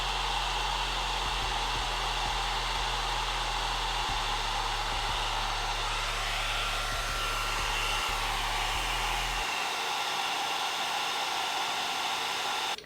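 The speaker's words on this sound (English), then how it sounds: "I'm just gonna let the diffuser just sit there for a little bit. So I'm gonna dry all my hair this way." A T3 Micro hair dryer with a diffuser attachment blows on curly hair in a constant loud whooshing roar that runs close and unbroken. Its low hum shifts partway through and then stops abruptly at the end.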